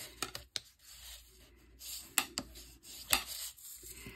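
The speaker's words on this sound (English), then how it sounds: "I'm going to take my bone folder, I'm going to fold, and I'm going to burnish it this way" A bone folder burnishes a folded paper card for a gift card envelope, making soft rubbing and sliding strokes close up, with a few sharp taps in between and no speech.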